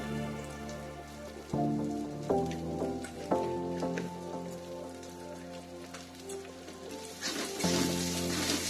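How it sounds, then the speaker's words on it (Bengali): Spice paste for katla fish-head muri ghonto fries in a pan, giving a soft, continuous sizzle and crackle beneath louder sustained background music, with occasional stirring. "খুব ভালো করে মশলাটা কষিয়ে নেব"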